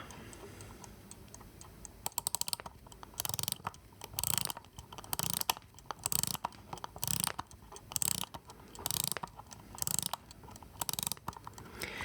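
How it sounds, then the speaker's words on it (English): A fully mechanical desk clock being wound by hand, giving rhythmic ratcheting clicks in repeated bursts up close, with a faint steady ticking between the winding strokes. "This is fully mechanical. So you wind this up."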